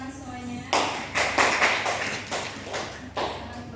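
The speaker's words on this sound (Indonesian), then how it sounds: "Boleh tepuk tangan semuanya." Pupils in a classroom clap together after a teacher's request, a burst of near, irregular hand claps and taps that swells in several waves over about three seconds.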